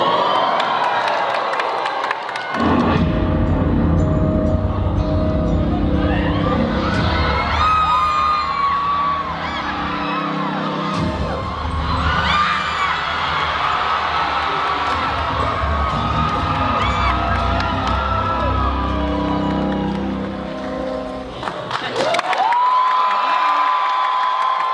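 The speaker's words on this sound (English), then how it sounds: "Something tells me this crowd is familiar with Jack and Oddfellow." A large crowd at the Halloween Horror Nights 35th-year house and icon announcement at Universal Orlando cheers, whoops and shouts loudly and continuously, swelling in waves, with a brief dip before the roar picks up again.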